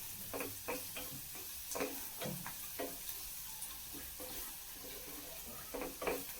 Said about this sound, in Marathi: आता आपण हे व्यवस्थित परतून घेतले